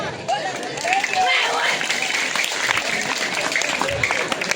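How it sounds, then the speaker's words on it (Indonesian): Audience clapping at a live Balinese comedy show, a busy, sustained patter of hands under talking and shouting voices. "Tepuk tangan"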